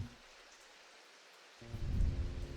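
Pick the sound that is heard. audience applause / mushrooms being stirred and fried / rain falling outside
rain falling outside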